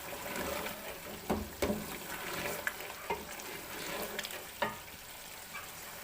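Ground cumin and dry coriander fry in a pan with a moderate sizzle, broken by several sharp stirring knocks and scrapes, no speech.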